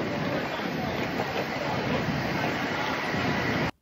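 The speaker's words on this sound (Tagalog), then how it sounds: "Sobrang lakas din pala ng hangin at naabutan na rin kami ng ulan." Strong wind blows outdoors in a loud, steady broadband rush during a windy spell with rain arriving, continuous until it cuts off abruptly at the end.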